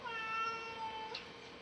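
A pet cat gives a single soft, drawn-out meow indoors, faint and close, with no talk over it.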